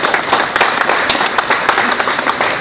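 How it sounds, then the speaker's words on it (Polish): Loud, close applause for Kim Rasmussen at a gathering for the Polish women's handball team, dense rapid clapping throughout the short stretch. "Brawa dla Kima Rasmussena."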